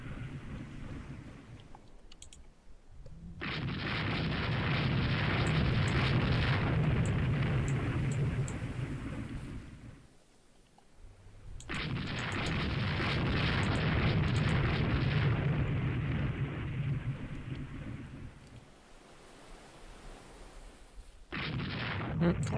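Warship guns fire shells in the Rule the Waves 2 naval video game, producing long, heavy, rumbling booms that swell and fade in two broad waves, then a third that starts near the end, loud and distant-sounding.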